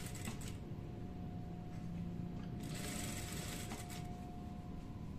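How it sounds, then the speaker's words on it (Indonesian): A sewing machine stitches a trouser side pocket, a low steady running hum with faint mechanical ticking, quiet and continuous throughout. "Lalu dijahitkan lagi, jangan lupa diberi jahitan mati di sini."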